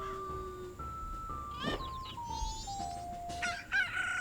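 Chickens crow in Zelda: Majora's Mask on the N64 at night, several overlapping cock-a-doodle-doos rising and falling in sequence over a steady electronic game tone, fairly loud and close.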